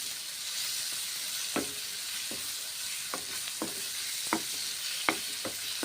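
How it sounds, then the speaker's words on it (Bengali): Ground pointed gourd paste fries in hot oil with onion and poppy seeds, a steady close sizzle broken by regular scrapes and clicks of a stirring spoon against the pan. "বাটা পটল ওই তেলের মধ্যে পেঁয়াজের মধ্যে পোস্তর মধ্যে ছেড়ে দিলাম"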